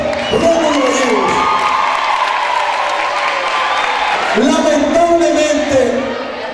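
A school crowd at the Liceo Rómulo Gallegos in Maracay breaks into loud applause and cheering, with shouts and whoops from young voices rising over steady clapping throughout.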